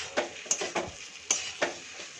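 A spoon scrapes and knocks through vegetarian cabbage and potato curry in a pan, several distinct strokes in an uneven rhythm with light metallic clinks and a soft background sizzle, close and clear.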